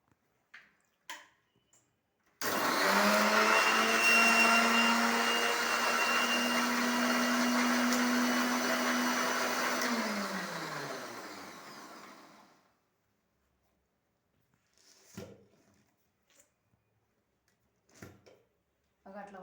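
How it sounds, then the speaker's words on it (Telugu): A mixer grinder blends oranges with a little sugar for juice: a loud, steady roar lasts about ten seconds, then winds down as the motor stops, with brief voices afterward. "మిక్సీ చెయ్యాలి వీటిని"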